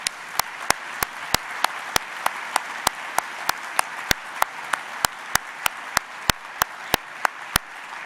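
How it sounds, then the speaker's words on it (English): An awards ceremony audience applauds the year's community award winners, a steady roomful of clapping with a few sharp, close handclaps punctuating it at a regular beat, sustained and moderately loud throughout. "Let's take a second and give another round of applause and a hearty congratulations to all of"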